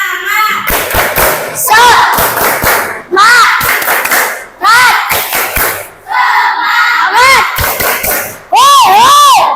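Children in a classroom perform the tepuk semangat clapping chant, loud bursts of rhythmic clapping alternating with shouted chanted voices in quick repeated phrases.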